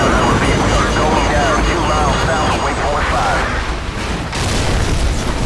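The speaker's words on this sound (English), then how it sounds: "baru pertama-pertama udah ditembak misil" An incoming missile explodes in Call of Duty 4: Modern Warfare, a loud, sustained roaring blast with heavy low rumble filling the whole stretch, with voices talking over it.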